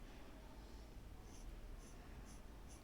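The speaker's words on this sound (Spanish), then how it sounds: "Voy a reafirmar algunas bajadas con el otro lápiz" A pencil strokes across paper while a portrait is being drawn, a faint close scratching that runs steadily throughout.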